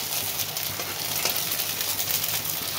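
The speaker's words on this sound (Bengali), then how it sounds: "এবারে আমি শুধু ভাজবো" Bora fritters frying in a little hot oil in a kadai, a dense, steady sizzle close by with faint stirring scrapes and no talk over it.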